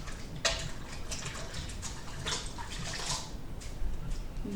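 Hands being washed under a running kitchen tap, a steady splashing stream with small drips and knocks, close and moderately loud, no talking.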